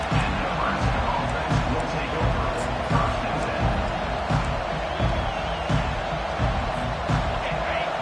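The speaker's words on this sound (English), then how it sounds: "Listen to this crowd." Roaring stadium crowd in a college football video game, Nebraska versus UCLA, a steady dense wash of cheering and noise filling the whole stretch with faint thuds and commentary-like voices underneath.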